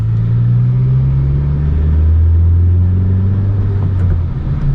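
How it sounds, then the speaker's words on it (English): A car with a manual-style shifter cruises slow 25 mph neighborhood streets, its engine a steady close low rumble through the whole stretch, pitch rising and dropping as it works through the first three gears; no talking. "So I'm gonna stick to driving through like little 25-mile-per-hour neighborhoods."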